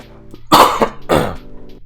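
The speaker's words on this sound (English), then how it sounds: "Sorry, I need a cough." A person coughs twice in quick succession, close and loud, each a sharp throaty burst with a faint breath between, against a quiet background.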